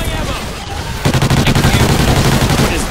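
Turret gunfire in Call of Duty Ghosts Extinction, a loud rapid burst of automatic shots that starts about a second in and hammers on steadily to the end.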